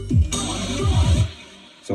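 Mixed-down hardware acid techno track with an effected Roland TB-303 bassline and vocal samples, a short loud burst of squelchy descending bass notes under bright noisy textures, then fading before a new hit.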